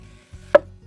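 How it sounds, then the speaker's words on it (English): A knife slices through red salad onions on a wooden chopping board outdoors, with one crisp, sharp cut landing against the board after a soft initial contact. "All right, just with the salad onions here, the red ones, just gonna cut them nice and thin."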